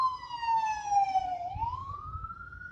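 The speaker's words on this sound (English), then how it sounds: "it's really ambulance riding by, a loud noise in the background" An ambulance siren sweeps down and then rises again in a clear wailing tone, moderately loud and passing at some distance, with low traffic rumble underneath and no talking.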